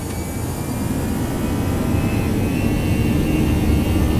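Airbus A319 jet engines in the X-Plane 11 flight simulator, loud and close at takeoff thrust, a steady dense roar with a faint whine that holds level throughout.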